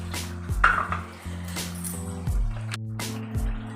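Cookware is rinsed of spice residue with scattered clinks and clatter of pots and utensils, interspersed with faint splashy handling. The sounds are close and moderately quiet, with no speech.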